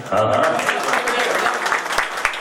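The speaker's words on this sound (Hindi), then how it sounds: "इसके लिए ताली तो बनती है ना।" Audience applause at a Hindi film trailer and music launch event, a dense, steady wash of clapping that fills the whole stretch, with voices talking over it.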